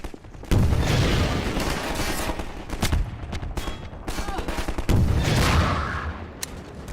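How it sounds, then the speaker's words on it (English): Rocket launcher fire and heavy blasts in Half-Life 2, a series of loud, booming explosions with rumbling tails, the biggest hits landing near the start and again near the end, over a dense backdrop of gunfire. "we've got unlimited rockets"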